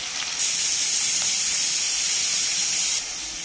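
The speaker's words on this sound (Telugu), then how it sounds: "ఆయిల్ హీట్ అయ్యాక మనం ఆనియన్స్ యాడ్ చేసుకోవాలి." Onions dropped into hot oil in a pan, setting off a sudden loud, steady hiss that holds for a few seconds and then cuts back to a quieter sizzle.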